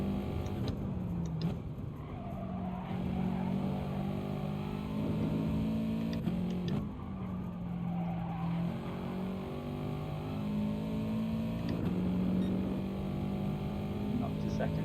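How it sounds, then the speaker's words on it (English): Race car engine in Gran Turismo Sport revs out in second gear, a continuous droning whine that rises and falls with shifts, heard under someone talking throughout. "I'm revving out second gear"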